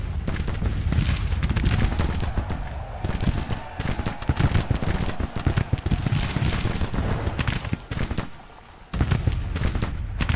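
Dense artillery and musket gunfire from a Civil War battle in the strategy game Grand Tactician, with howitzers firing: continuous overlapping cracks and booms roll loudly throughout, briefly thinning near the end before resuming.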